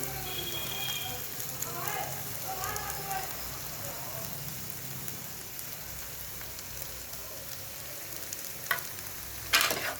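Fried potatoes and onions in a pan being stirred together with salt, chilli and turmeric, giving a soft steady sizzle with light scraping, then a couple of sharper utensil knocks at the end.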